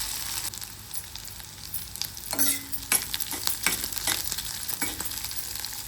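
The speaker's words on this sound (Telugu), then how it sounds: "మగ్గిన తర్వాత కరివేపాకు వేసుకుంటే టేస్ట్ చాలా బాగుంటుంది. ఇలా ఫ్రై చేసుకొని స్టవ్ ఆఫ్ చేసుకోవాలి." Curry leaves fry in a pan on a stove, a steady sizzle broken by repeated scraping stirs and brief metallic clinks of the spoon against the pan.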